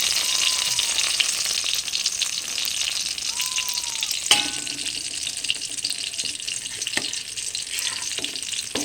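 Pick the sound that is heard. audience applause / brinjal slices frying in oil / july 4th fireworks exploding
brinjal slices frying in oil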